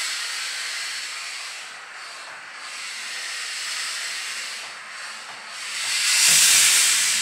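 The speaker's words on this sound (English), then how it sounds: "Steaming a little bit because it's suddenly gotten super cold outside." A garment steamer hisses steadily while steaming winter clothes, a broad continuous rush that swells louder near the end, with no talk over it.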